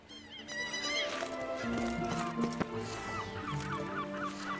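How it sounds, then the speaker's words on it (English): Crows caw in The Witcher 3, a busy layered chorus of harsh calls over game ambience, several birds at once at moderate loudness. "There are a lot of fucking crows."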